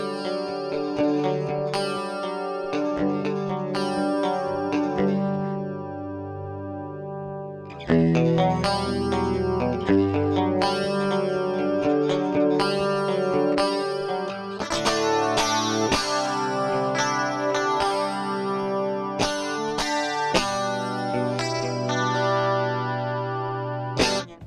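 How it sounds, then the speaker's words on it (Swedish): Clean 2 setting of an MXR Rockman X100 pedal on electric guitar, a classic 1980s clean tone, chorused and echoing as chords and arpeggiated notes ring out steadily and loud, with no talking. "Om vi börjar med Clean 2. Det skulle jag säga är det mest ikoniska Rockman-soundet."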